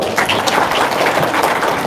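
An audience at an Indonesian motivational talk breaks into brief applause, a dense, steady patter of many hands clapping at close range.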